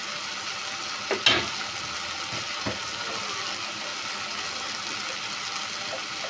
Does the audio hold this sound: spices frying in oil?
yes